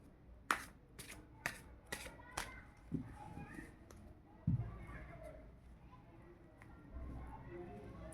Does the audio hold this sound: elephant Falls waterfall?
no